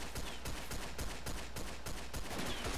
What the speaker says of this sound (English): Dropping the artillery right on him.